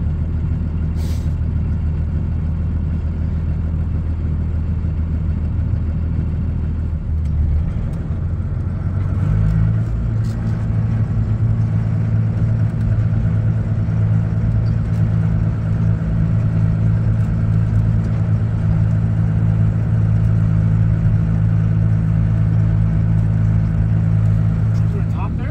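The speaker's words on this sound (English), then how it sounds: "we're in the tractor now" A farm tractor engine drones steadily from inside the cab, a loud low hum that rises in pitch partway through, with talking over it.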